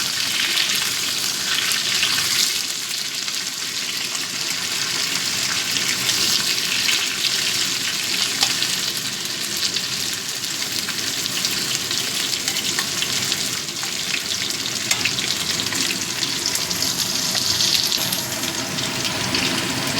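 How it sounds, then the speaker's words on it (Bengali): Vegetables fry in hot oil for pui pituli with prawns, a loud, steady crackling sizzle with occasional stirring scrapes throughout, close up and with no speech. "সবজিগুলো সব ভাজা হয়ে গেছে"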